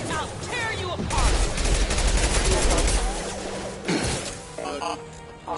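Dense bursts of automatic gunfire and rapid shots in a Mass Effect 2 combat firefight, loud and close, with impacts and clatter, then sharper separate shots near the end; shouted voices mix in.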